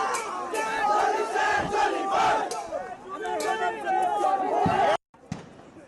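Dense roaring crowd of street protesters in Guwahati, many voices shouting and chanting loudly and continuously before cutting off abruptly, followed by brief quieter sounds.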